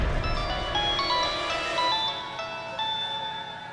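A phone rings with a bright electronic melodic ringtone, steady and fairly loud, playing repeated tonal phrases over soft background music, with no talking.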